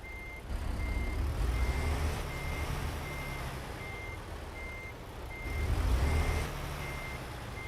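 Truck reversing beeps in American Truck Simulator during a short cable delivery: a steady series of evenly spaced electronic beeps repeats over a continuous low diesel engine rumble, with no talking.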